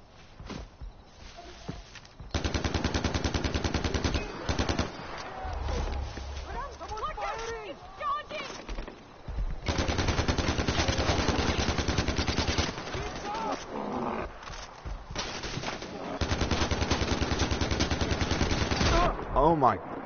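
Gunfire in the video game Far Cry 4 comes as dense bursts of rapid shots that repeat through the stretch. It is loud and continuous, with a player talking over it.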